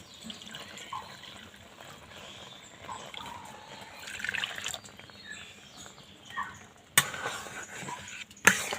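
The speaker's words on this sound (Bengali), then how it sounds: "এখানে যেহেতু এক বাটি সুজি নিয়েছি তাই দু বাটি আমি দুধ দিলাম" Milk poured into a pan of semolina, a continuous close liquid stream and splashing that builds toward the end, with no talking.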